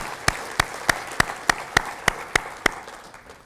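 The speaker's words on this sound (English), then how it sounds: "would you join me in a round of applause for our winners" Audience applause at an awards conference for winners, heard as a short run of about ten evenly spaced, sharp claps that fade slightly toward the end, fairly close and clear.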